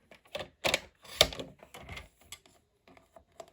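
Stamped paper is cut for a handmade matchbook-style card. It makes a quiet series of crisp clicks and soft snips, irregular and close.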